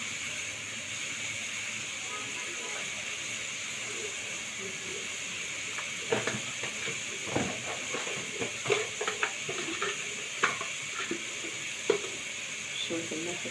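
A pan of shawarma filling for restaurant-style crepes sizzles steadily with a constant hiss, while sporadic stirring scrapes and clatters break through in the second half.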